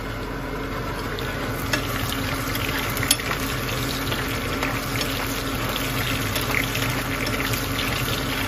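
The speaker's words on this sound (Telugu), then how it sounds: "ఇప్పుడు ఇటు మిశ్రమాన్ని ఫ్రై చేసుకోవాలి." A spice mixture frying in oil in a home kitchen pan, giving a steady, low crackling sizzle with occasional small pops and stirring scrapes, heard close and without voices.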